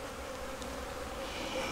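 Bee Weaver honey bees buzzing at an open hive during a spring inspection, a dense, steady hum close by with no talking.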